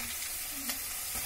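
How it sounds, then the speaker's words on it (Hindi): Marinated Fortune soya chunks drop into a frying pan for soya biryani and give off a soft, continuous sizzle with a brief stir or clatter partway through, fairly quiet and with no voices. "अब इसमें जो सोयाबीन मैंने मैरिनेट करके रखा था उसको डालेंगे।"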